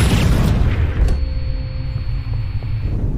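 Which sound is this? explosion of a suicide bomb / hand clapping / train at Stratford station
explosion of a suicide bomb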